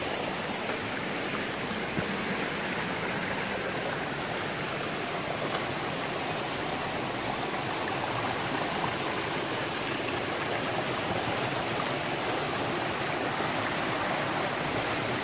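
Steady broadband rush of rising river water spilling over into a dry side channel of the river, a constant close roar of flowing current with no voices.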